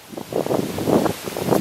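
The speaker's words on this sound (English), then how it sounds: "Super windy." Strong, gusty wind roars across the microphone outdoors in stormy weather, a continuous broadband rush that swells and dips in uneven surges with no voices.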